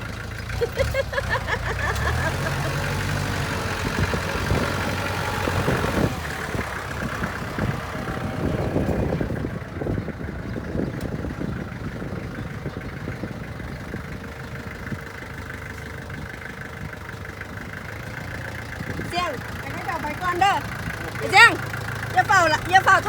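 A tractor engine idles steadily throughout with a low, chugging rumble, while people talk intermittently over it.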